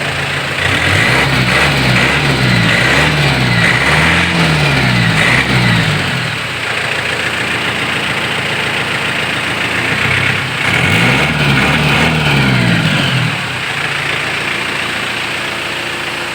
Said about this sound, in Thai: เครื่องยนต์ดีเครื่องยนต์แน่นครับ